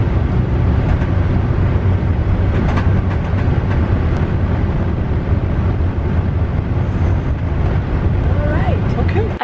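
Steady rumbling interior of a bus on an eight-hour highway ride, broadband road and engine drone continuous throughout with faint voices underneath.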